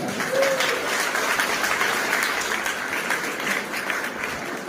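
Steady audience applause at a motivational speech programme, a dense continuous wash of clapping from a large crowd lasting throughout, fairly loud and with no talk over it.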